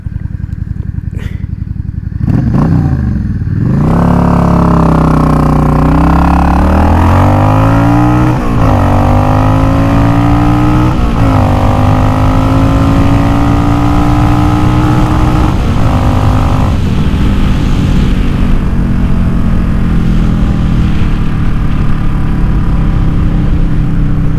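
A motorcycle engine fitted with a chrome K&N universal filter and a re-jetted Mikuni carburettor fires up, then revs loudly and close through several smooth, climbing pulls across its range before settling back.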